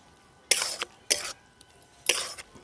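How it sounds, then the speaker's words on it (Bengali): A utensil scrapes grated coconut mixed with jaggery around a wok over medium heat as filling for patishapta pitha, giving three distinct stirring strokes separated by quiet pauses. "এই যে নারকেল কোড়োটাকে গুড় দিয়ে কড়াইতে আমি নাড়ছি"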